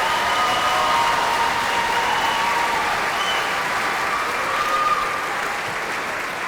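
Audience applause for the valedictorians at the Kalaheo High School class of 2022 commencement, a dense, steady wash of many hands clapping that stays loud throughout, with faint crowd cheering woven in.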